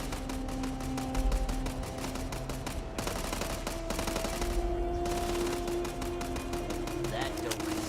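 Rapid automatic gunfire rattles in continuous bursts at a firing range in the space game Starfield, a steady mid-level stream of shots under game ambience and faint tonal sounds.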